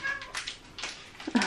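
Kittens being fed at home let out short, high meows close to the microphone, a few scattered cries with one louder squeal at the end.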